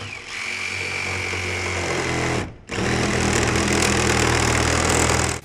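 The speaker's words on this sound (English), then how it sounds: "I'm ready now to just simply make the square cut where the template was traced around" A power tool, likely a jigsaw, cuts a square hole for an automatic chicken coop door, buzzing loud and steady, briefly stopping for a moment before resuming at full speed.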